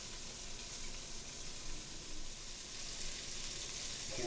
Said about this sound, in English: You can hear it starting to sizzle there.